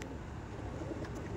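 Pigeons kept for tournament flying coo softly in a low, murmuring burble, faint against a steady background hum.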